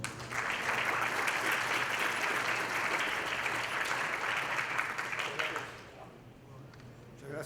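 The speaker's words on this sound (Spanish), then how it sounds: "a quien recibimos con un fuerte aplauso" Warm applause from a crowd at a university lecture, full and steady for several seconds before quickly dying away into quiet room noise.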